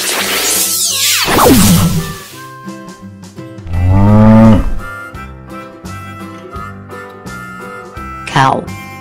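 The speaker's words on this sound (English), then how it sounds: "Cow." A cow lets out two long, loud moos, the first falling in pitch, followed by a shorter third call, over light background music.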